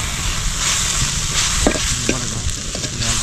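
Garam masala stirred and fried in a pan for Kerala-style fish pollichathu: a steady, close sizzle with repeated scraping spoon strokes against the pan, no talking.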